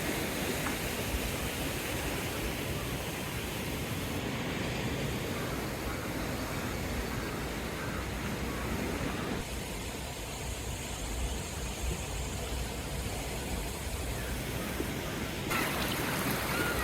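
Water rushes through an open sluice gate at Malayadi reservoir in Ampara, a loud, steady broadband roar that fills the whole scene without pause.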